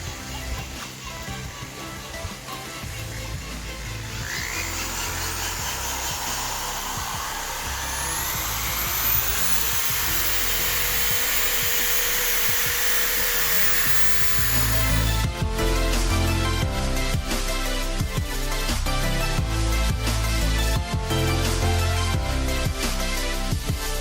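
Power drill spinning a polishing pad against an old, hazy car headlight, a steady whirring drone that holds through the clip and grows busier and rougher near the end, heard close up with no talk.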